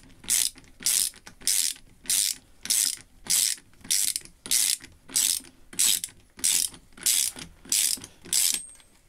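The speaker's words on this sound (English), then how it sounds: "Now I have to put the lock nut back in" A ratchet tightens a lock nut on a guillotine being restored, about a dozen even bursts of sharp clicking, each roughly half a second long, repeating steadily at close range with no talk.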